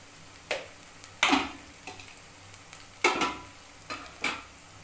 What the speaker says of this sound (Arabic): بصوا كده انا بقلب الرز التقليبه التانيه عشان يكون خلاص استوى.